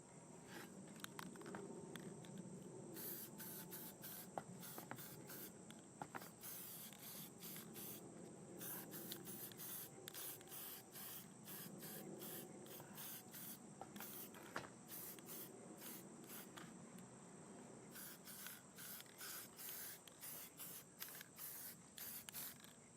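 Satin red spray paint hisses as a base coat goes onto a cleaned Briggs & Stratton rewind pull starter, a long steady spray broken by short bursts and pauses, fairly close and with no voices.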